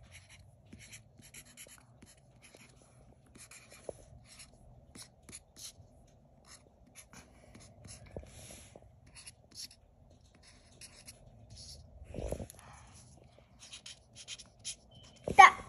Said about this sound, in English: I'm gonna write Blossom's potty tots.